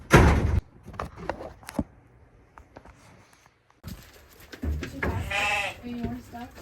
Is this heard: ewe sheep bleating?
yes